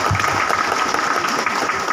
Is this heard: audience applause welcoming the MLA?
yes